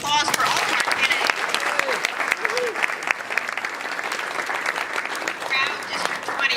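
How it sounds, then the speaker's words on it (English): An audience at a Democratic candidates' debate in Maryland applauds, with dense, steady clapping close by and scattered cheers and voices mixed in throughout. "How about a round of applause for all of our candidates?"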